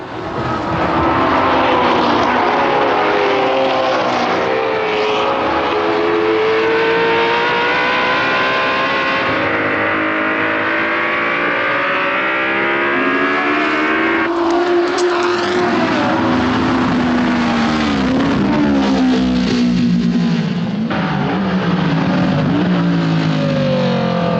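Racing cars roaring past during laps of a motor race, a loud continuous engine drone with rising and falling pitch sweeps as cars pass close by, filling the whole stretch without a break.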